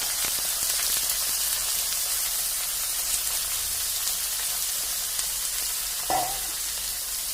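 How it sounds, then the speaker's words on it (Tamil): Bitter gourd sizzling in hot oil with popped mustard seeds, a steady close frying crackle throughout with a light knock of stirring near the end, no voices. "கடுகு பொரிஞ்ச உடனே பாவக்காய் சேர்க்குறேன்"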